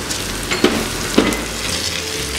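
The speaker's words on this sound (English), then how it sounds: "So the grated garlic goes in. I'm going to give that a stir." Grated garlic and onions fry in a pan for a Nigerian garden egg stew, giving a loud, steady sizzle broken by two brief scraping stirs.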